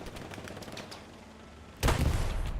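Rockets are launched at Axis armor, a Panzer IV tank, in the World War II shooter Hell Let Loose, a sudden loud blast that bursts in after scattered distant gunfire and keeps roaring to the end.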